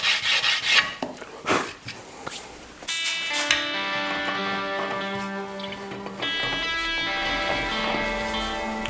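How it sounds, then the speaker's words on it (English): A wooden guitar headstock being sanded down, with a few scratchy rubbing strokes up close, then partly buried under a sustained tonal background music. "I will sand it down a bit."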